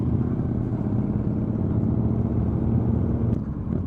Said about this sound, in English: Lovely, lovely. Look at all the bikes.